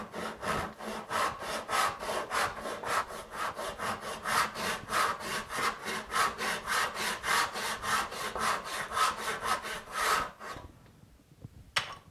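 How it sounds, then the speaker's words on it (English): A hand crosscut saw cuts the shoulder of a wooden tenon in steady, rhythmic strokes, close and loud, for about ten seconds before stopping. "And now I'm going to cross cut out the shoulder. Well, I've already got a cross cut saw"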